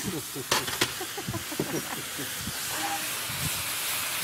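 White wine hits a hot pan of shrimp, releasing a broad steaming hiss that swells and holds while people talk over it, with a couple of sharp clanks early on.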